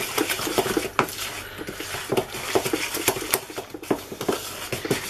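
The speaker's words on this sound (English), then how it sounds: "Now, get the egg straight in there and give that a mix." Egg being mixed into raspberry and apple crumble batter in a bowl, with a steady run of close spoon or utensil clinks and taps against the bowl, irregular scraping knocks throughout, no talking.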